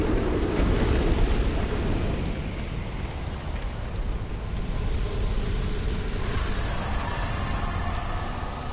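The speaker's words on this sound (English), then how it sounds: "Yeah, explosion." The smelter demon in the video game Dark Souls 2 unleashes an explosion attack, a loud, sustained roaring blast of broadband rumble and crackle that fills the whole stretch without easing.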